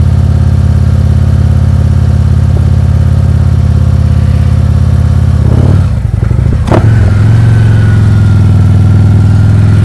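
A motorcycle engine runs loud and close at a steady low idle during slow-speed clutch and brake practice, with a brief dip and change in pitch near the end as the clutch engages before it settles into a steady hum.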